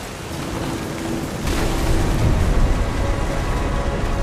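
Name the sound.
thunderstorm with rain in video game What Remains of Edith Finch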